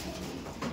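A Madrasi pigeon coos once softly up close, a brief low throaty sound against faint background noise.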